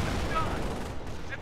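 Gunfire from the Company of Heroes video game, a steady rattle of shots in a battlefield mix, moderately loud, with voices talking throughout.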